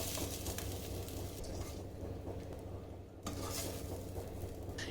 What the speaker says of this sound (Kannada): ಇವಾಗ ಇದನ್ನು ಫ್ಲಿಪ್ ಮಾಡಿ ಇನ್ನೊಂದು ಕಡೆ ಚೆನ್ನಾಗಿ ಫ್ರೈ ಮಾಡ್ಕೊಳ್ತೇನೆ